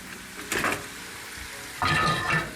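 Sausage browns in a pan for a soup, a low steady sizzle underneath two brief louder bursts of scraping and stirring against the pan.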